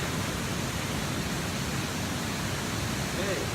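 Waterfall at Bells Canyon, heard from the top as a constant, loud, broadband roar of rushing water that fills the whole clip without change, with a brief faint voice near the end.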